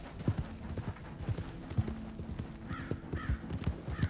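A horse in the Red Dead Redemption 2 video game clops along in a steady, uneven rhythm of close hoofbeats, with soft snorts and a faint whinny mixed in.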